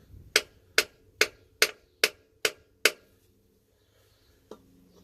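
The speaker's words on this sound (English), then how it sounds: "I'm gonna drive this thing in like that with the hammer. Slowly tap." Seven sharp hammer taps, driving a seal into a Toyota Tundra transfer case, land in an even, steady rhythm, then a pause and one softer tap. No voices.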